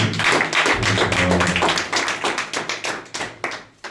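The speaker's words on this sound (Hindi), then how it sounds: "चलिए हम लोग एक अच्छा ताली बजाएं प्रभु के लिए" A church congregation claps in praise, a dense burst of many hands that gradually thins into scattered, separate claps toward the end.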